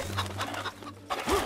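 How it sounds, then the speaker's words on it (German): Chickens cluck in the video game Fable Anniversary, a few brief, scattered clucks over a low droning game ambience, fairly close and moderately loud. "Hier, Hühner."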